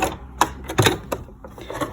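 A sewing machine back stitching the end of a seam on a fabric heating pad, giving a short run of dense mechanical needle chatter with a few pulsing surges, close and loud, with no talk.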